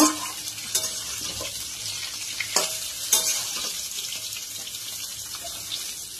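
Raw green mango pieces being stirred in a pan for a sweet Bengali pickle, giving a steady soft sizzle with a few louder scraping clicks of the spoon near the start and middle.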